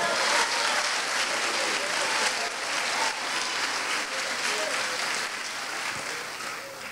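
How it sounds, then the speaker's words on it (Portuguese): A church congregation during a worship service breaks into strong, dense applause that holds evenly and then tapers slightly toward the end, with no clear speech on top. "Dê um forte aplauso ao Senhor."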